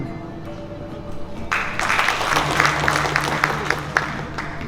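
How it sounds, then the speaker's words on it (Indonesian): Applause rises suddenly from a crowd at a Bali DPRD session honouring the former governor of Bali, swelling into dense clapping with a low background hum after a quieter opening. "Tepuk tangan beliau"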